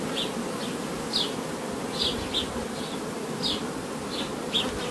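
Honeybees at an open hive that is doing well, a dense steady buzzing hum close by, with individual bees whining past in short rising passes over the constant drone.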